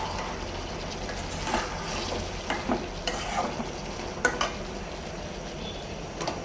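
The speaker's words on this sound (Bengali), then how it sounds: "মাংসটা কষাইতেছি।" Meat being stir-fried in a pan, a steady close sizzle with scattered clinks and scrapes of stirring throughout, no voices.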